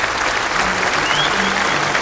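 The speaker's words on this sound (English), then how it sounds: "Cue the round of applause." A round of applause, steady dense clapping at even loudness throughout, with a faint tonal line and a few low tones underneath, closing a gameplay episode of South Park: The Stick of Truth.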